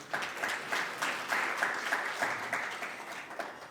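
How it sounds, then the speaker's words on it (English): Audience applause at a film panel event on audio description in Durban, South Africa: a steady round of clapping from a moderate crowd, fairly even and sustained for several seconds with slight rhythmic swells, no talk over it. "Please give it a round of applause."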